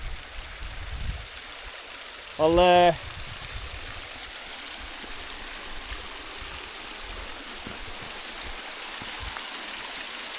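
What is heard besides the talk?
small cascading waterfall stream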